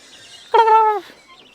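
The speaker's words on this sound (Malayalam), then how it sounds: "ടർക്കിക്കോയാണത്." A turkey at a bird park in Wayanad lets out a single loud, close gobble lasting about half a second, with quiet surroundings before and after.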